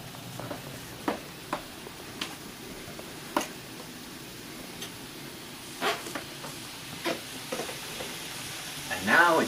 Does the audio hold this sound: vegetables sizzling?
yes